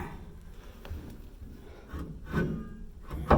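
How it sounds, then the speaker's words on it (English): Ford F150 rear brake rotor being slid and shimmied back and forth over the brake pads, giving soft, close metallic rubbing and scraping with a few brief knocks, the loudest near the end. "just kind of shimmy it back and forth over top of those pads"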